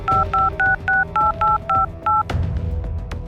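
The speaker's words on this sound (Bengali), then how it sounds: "দেখি সূর্যকে ফোন করে।" A cartoon telephone dials out as a quick series of eight clear, evenly spaced beeping touch tones, loud and close, followed by a brief clatter and low room noise.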